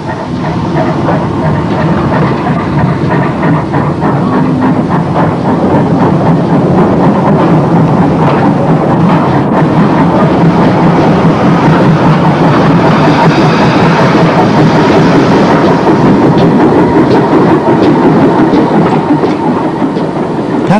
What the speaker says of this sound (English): the Monmouth auto train left from the Bay platform